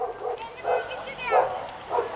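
Several dogs bark and yip in short bursts at moderate distance on a street, chasing people, with excited voices and hurried movement underneath.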